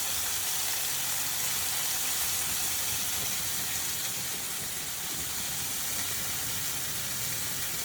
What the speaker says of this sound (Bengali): এখানে সজনা ডাঁটা তরকারিটা বসাবো বলে ডাঁটাগুলো একটু ভাজতে বসালাম, আর এখানে পটলের তরকারিটা করবো বলে পটলটা ভাজতে বসালাম